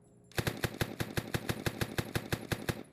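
Rapid automatic gunfire from the video game One-armed Robber, about fourteen loud, evenly spaced shots in a quick burst after a short quiet start.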